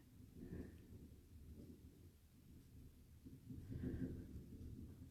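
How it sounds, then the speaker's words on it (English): Low rolling thunder rumbles in the distance during an indoor wool applique and silk ribbon embroidery session, a faint swelling growl that builds and fades over a hushed background. "I don't know if you can hear that wave of thunder."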